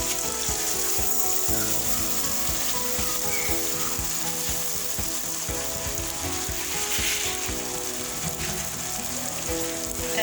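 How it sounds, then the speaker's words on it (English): Jollof sauce frying in a pot as rice is added, a continuous loud sizzle and crackle with some stirring and shifting sounds underneath, steady throughout with no voices. "We're going to add our rice."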